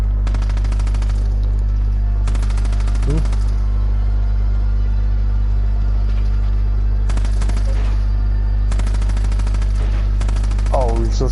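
Rapid automatic gunfire crackles in Far Cry 5 during an assault near a jail, arriving in several dense bursts over a constant low engine-like drone, with a voice talking in between.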